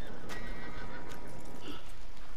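A horse in an Old West video game gives a loud, close whinny, with a few hoof clip-clops mixed into the steady outdoor game ambience.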